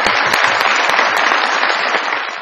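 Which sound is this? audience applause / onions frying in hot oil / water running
audience applause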